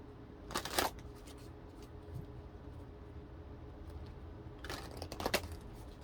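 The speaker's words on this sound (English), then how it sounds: "I just wanted to give him a really good shuffle" Oracle cards are shuffled by hand in two short riffling bursts a few seconds apart, crisp and close, with quiet room hiss between them and no talking.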